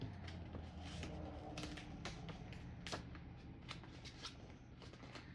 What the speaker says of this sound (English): You're going to want to carefully peel off the backing paper, keeping the vinyl attached to this transfer paper.